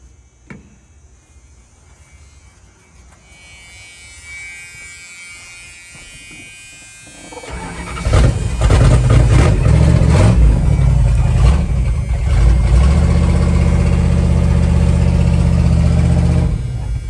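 A 1978 Dodge Adventurer Power Wagon engine on its first start after sitting abandoned: cranking and a faint whir build up, then the engine catches and runs loudly with a rough, steady idle close by.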